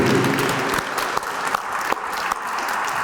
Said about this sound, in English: can we all get a big round of applause for all our award winners this evening?